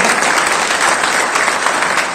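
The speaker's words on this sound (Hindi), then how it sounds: "अब्दुल मन्नान साहब का जोरदार तालियां बहुत देर तक बजती रहनी चाहिए" Crowd applause welcoming chairman Abdul Mannan at a Samajwadi Party workers' conference in Kiratpur, loud continuous clapping from a large gathering, dense and unbroken throughout the short stretch.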